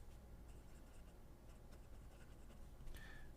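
A Ranga Splendor fountain pen with a titanium Bach broad nib writing on paper: soft, steady scratchy strokes, very quiet and close, with a slightly louder stroke near the end.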